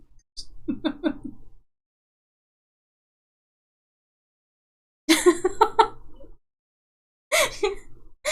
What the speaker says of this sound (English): Don't get into coughing fits